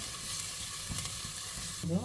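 Steady sizzling of garlic and ginger frying in a hot pan, a continuous hiss with faint stirring, ending in a brief tonal clink.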